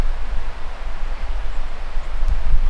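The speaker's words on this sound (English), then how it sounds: "this pretty little creek that's running behind our camp here" A steady, low wash of running water from a small creek behind a mountain camp in the Sawtooth Mountains in fall, with faint gusty rustling and no voices.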